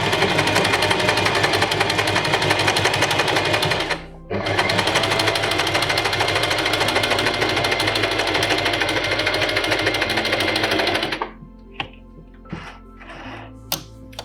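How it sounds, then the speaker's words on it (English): A sewing machine stitches along a folded fabric edge in a loud, fast, continuous whirring chatter, pausing once briefly, then stopping, followed by a few quiet clicks and handling sounds. "Go slowly and just stitch right on the edge of that."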